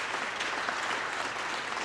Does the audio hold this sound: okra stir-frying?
no